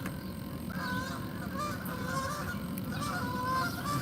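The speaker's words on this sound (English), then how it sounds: "Here come the geese." Four geese flying over a fishing spot, honking repeatedly in uneven bursts that rise and fall, moderately close above a steady outdoor background hiss.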